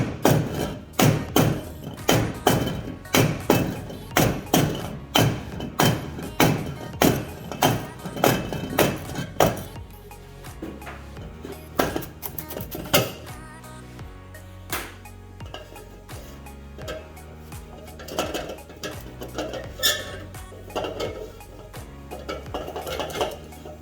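Metallic clanks, taps and thuds from disassembling a ten-year-old aftermarket Fuel motorcycle exhaust, loud and rhythmic at first, then sparser scraping and clinking of parts, with no talking.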